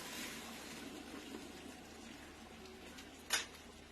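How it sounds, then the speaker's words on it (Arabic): Boiling water poured into a pot in a home kitchen, making a soft, steady gushing and trickling with a single brief clatter near the end. "هنا دلوقتي معايا ميه مغليه، هبتدي احط كده زي ما انتم شايفين"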